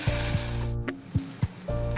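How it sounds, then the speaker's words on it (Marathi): Water for amti goes into a hot pan with a brief, moderate sizzle and a few soft splashes, broken by short pauses. "आता यामध्ये आपण पाणी घालायचं आहे आपल्याला."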